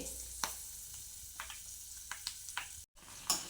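Leaves and flowers simmer in oil on a low flame for homemade hair oil, giving a steady soft sizzle with scattered pops and faint stirring clicks, close and alone.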